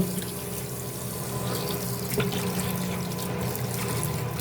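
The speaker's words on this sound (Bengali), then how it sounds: "মাছগুলো ধুয়ে নিছি।" Tap water runs steadily into a sink while boal and pabda fish pieces are rinsed underneath, making a constant splashing gush with small shifts as the fish are handled.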